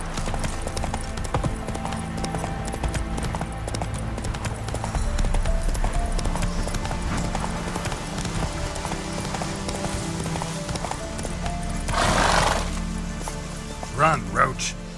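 Hooves of Roach, a horse in The Witcher 3, clip-clopping in a steady galloping rhythm, with rain-like patter and brief voices and other game sounds around it.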